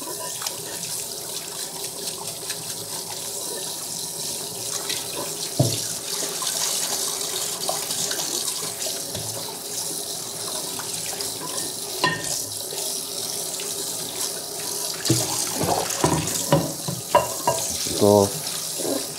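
Water runs steadily from a sink tap while a dishwashing sponge is washed and squeezed under the stream, with a continuous splashing hiss and a few brief clatters near the end.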